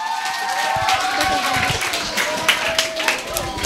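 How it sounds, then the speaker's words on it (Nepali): Audience at a Nepali extempore speech contest applauding a speaker as she is welcomed to the stage, a steady wash of clapping with scattered louder claps, while a voice carries on over it. "जोरदार तालीका साथ स्वागत गर्नुहोस्।"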